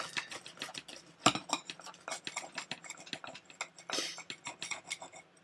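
Close, rapid rhythmic sawing and scraping of a bread knife cutting through toast topped with small dried fish, with one sharper clack partway through and no talking.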